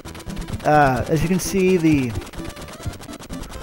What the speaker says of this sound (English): explosion thing is trying to outpace us, and we're trying to outpace the explosion